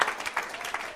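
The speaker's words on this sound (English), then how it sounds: "Let's give a big round of applause for Reverend Tony." Church congregation applauding during a Sunday celebration service, a brief burst of clapping with cheering accents, moderately loud throughout.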